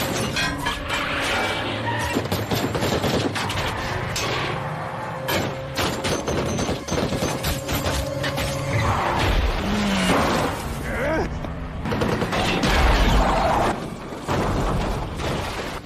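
Battle sounds from a war film about rescuing hostages from terrorists: rapid bursts of gunfire, crashes and impacts that keep going, with a voice narrating over much of the action.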